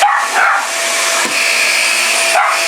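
A Shark Rocket MV481 vacuum cleaner runs after being switched on, giving a loud, steady high-pitched motor whine with a couple of brief dips. A dog's bark or whimper may also be mixed in.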